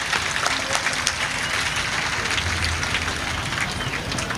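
A crowd applauds loudly and steadily for a taluk magistrate who presided over a village temple chariot centenary festival, the clapping dense and continuous throughout.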